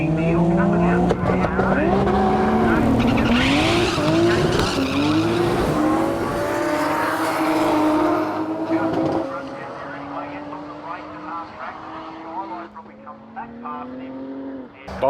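A drag racing truck launches hard at a drag challenge event. A loud, high-revving engine climbs in pitch while tire squeal cuts through, then the sound eases and fades as the truck pulls away.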